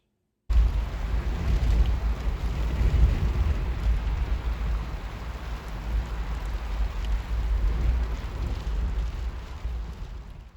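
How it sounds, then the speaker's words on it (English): Steady rain falling, a dense continuous hiss with a heavier low rumble underneath, starting suddenly and holding at a constant level for about ten seconds with no voices. "Rain, blessed rain."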